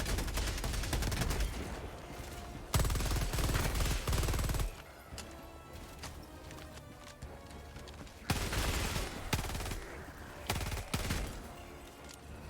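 Stalwart machine gun firing in the video game Helldivers 2, long loud bursts of rapid rattling shots broken by short pauses, close and dominant, with quieter game sounds between bursts.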